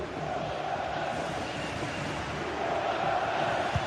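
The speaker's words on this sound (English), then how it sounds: "The crowd certainly think so. Just listen to them." A stadium crowd roaring in a GT Sports league football game: steady, sustained cheering and chanting that swells slightly toward the end, with no words spoken.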